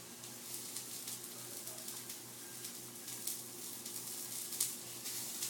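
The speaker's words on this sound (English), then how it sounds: "So we're going to just let that fry a little longer." Fresh vegetables fry in a pan for enchiladas with a steady, quiet sizzle and soft crackles. A low hum runs underneath and no one speaks.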